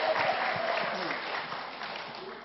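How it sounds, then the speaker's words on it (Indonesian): Audience at an evening seminar applauds, a steady wash of clapping heard from a distance, fairly faint and thinning out toward the end, with some voices underneath. "Tepuk tangan untuk apa ini?"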